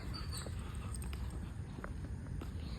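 Dogs bark outdoors near a garden with banana pepper plants: faint, distant, scattered barks over quiet background noise.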